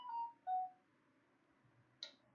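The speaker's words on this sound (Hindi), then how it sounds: "ये मेरा फोन बजते रहता है पूरे टाइम" A mobile phone sounds a few short electronic tones, two brief beeps followed by a sharper chirp, quiet and close, with no talking over it.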